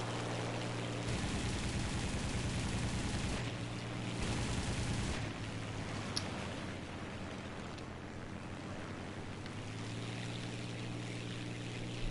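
Aircraft guns fire in War Thunder, with long loud bursts of rattling gunfire over a steady roar of engines and wind, continuing for several seconds in a dense, unbroken wash of sound.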